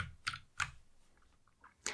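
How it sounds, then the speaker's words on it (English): A few separate keystrokes on a computer keyboard while using keyboard shortcuts in Xcode, sharp close clicks spaced apart with quieter taps between, no talk. "You can do everything using the keyboard."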